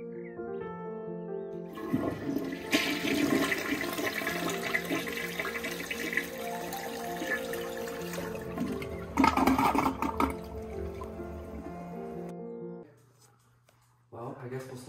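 Water gushes from a tap again after a well pump is restored following months without supply, a loud steady rush that runs for most of the stretch, then briefly drops away before resuming, with people talking over it.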